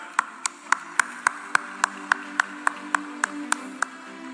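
A single pair of hands clapping at a steady, even pace, about fourteen sharp close claps in a row over a low hum, at the opening ceremony of a film festival honouring an actor, with no talking.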